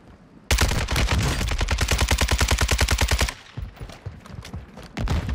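Sustained automatic gunfire from the Warzone 2 video game, a rapid stream of shots lasting about three seconds, loud and close, followed by a few scattered fainter shots and clatter.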